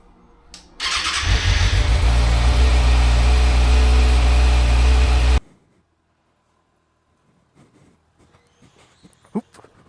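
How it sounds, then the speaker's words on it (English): A Kawasaki ZX6R motorcycle engine cranks and fires, then runs loud and close at a steady idle for about five seconds before cutting off abruptly, leaving quiet handling noises afterward. "Let me start the bike"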